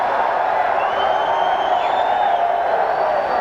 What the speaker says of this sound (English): This crowd's getting excited here.